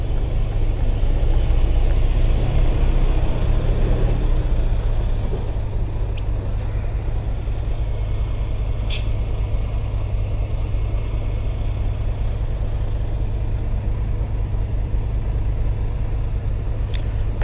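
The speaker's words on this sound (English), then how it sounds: "Come on, beat this truck." A truck drives past on a town street with a constant loud engine rumble. Sharp hissing bursts from its air brakes come midway and again at the end.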